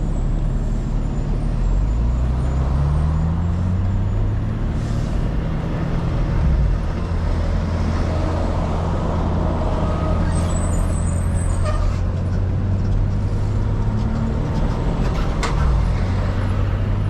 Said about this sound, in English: We got an oversized load coming behind us.